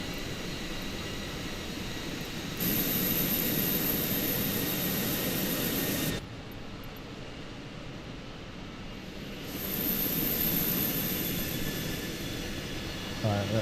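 Fenix A321 jet passing in a flyby in Microsoft Flight Simulator, a steady broadband engine roar that swells, drops away briefly, then returns loud and continuous.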